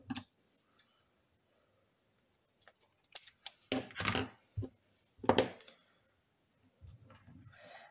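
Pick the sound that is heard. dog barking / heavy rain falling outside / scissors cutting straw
scissors cutting straw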